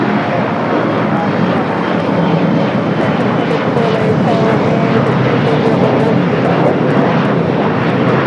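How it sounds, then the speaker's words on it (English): A SpaceX Boeing 737-800 takes off from LAX runway 25 left, producing a loud, steady jet roar that holds evenly for the whole stretch without letting up. "SpaceX 737-800. Looks like it's going to be a 25 left takeoff."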